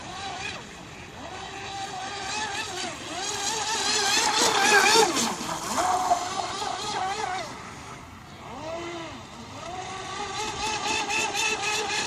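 A Hobbyking Hydrotek F1 self-righting RC speedboat's electric motor screams at full throttle across choppy water, a loud high-pitched whine that swells and surges with bursts of speed, continuous throughout.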